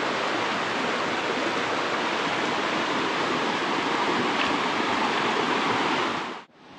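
A forest stream near Thác Mai waterfall in Định Quán, Đồng Nai, rushes in a steady, dense wash of water noise that stays loud and even throughout, then cuts off abruptly at the end.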